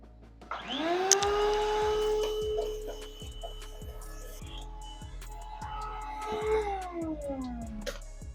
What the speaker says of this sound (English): I'm going to try to vacuum as much of this stuff out. This vacuum's not very good